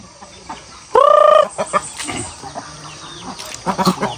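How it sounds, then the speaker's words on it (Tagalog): A hen gives one loud, drawn-out squawk, followed by softer scattered clucks and farmyard noises nearby. "Ayun may inahin doon."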